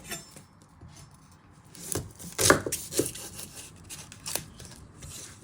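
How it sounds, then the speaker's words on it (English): Knife trimming the end off an onion on a cutting board, a few sharp close chops and taps spaced irregularly, with quieter handling noise between them. "You're first going to chop your end off."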